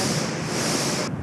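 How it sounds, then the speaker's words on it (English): Strong wind gusts on a golf course in Miami, a loud continuous rushing roar buffeting the microphone, cutting off sharply near the end. "It's very windy, so this makes it very difficult."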